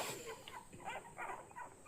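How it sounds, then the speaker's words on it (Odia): A pet puppy gives soft, faint yips and whimpers in short bursts, with some background noise and no clear talk. "ଆମ କୁକୁର ଛୁଆ ଇଏ"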